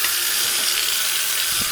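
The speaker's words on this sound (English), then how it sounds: "Just dump all the water out." Water dumped into a sink during a residential plumbing service call, a steady broadband splashing rush that runs unbroken and fairly loud from start to finish.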